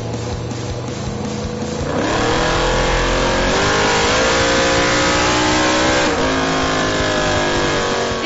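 A Hemi-powered car runs on a dyno, idling roughly before revving hard at about two seconds into a loud, sustained high-rpm roar that holds to the end, with no talk.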